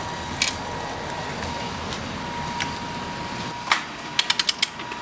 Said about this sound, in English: now they're going around removing the bolts